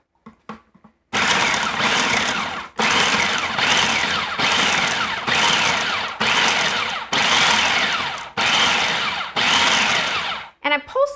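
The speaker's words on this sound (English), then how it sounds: "And I'm pulsing this because I don't want it to be super smooth." A food processor chops onions in repeated loud pulses, about seven bursts of motor whir each lasting roughly a second, separated by brief gaps, with olive oil going in; faint handling sounds come before and after.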